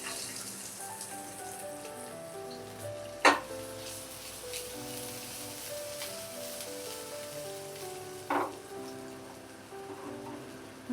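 Garlic fries in a spoonful of oil in a pan, giving a soft, steady sizzle and crackle throughout, with a couple of louder clinks of a utensil.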